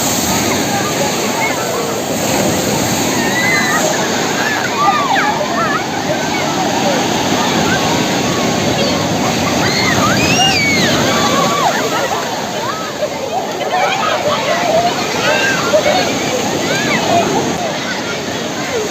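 Sea waves roll and crash on the shore by a seaside temple, a loud continuous wash of surf and splashing lasting throughout, with excited voices calling over it.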